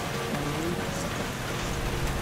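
Rain falls steadily on a small sailboat, a dense, even hiss of drops drumming on the deck and gear, close and constant throughout with no voices.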